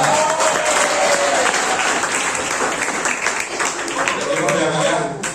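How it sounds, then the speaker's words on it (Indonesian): High school students at SMAN 105 Jakarta applaud in a loud, dense round of clapping from a large group, steady and close, tapering slightly near the end. "Tepuk tangan dulu 105"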